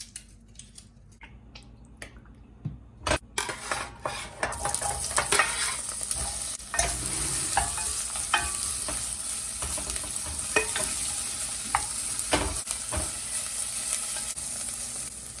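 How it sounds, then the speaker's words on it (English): Vegetables sear hard in a hot pot for tortilla soup, a loud steady sizzle that builds after a quieter start, broken by sharp stirring scrapes and clatters. "you should really be able to hear your food searing pretty hard in most cooking applications"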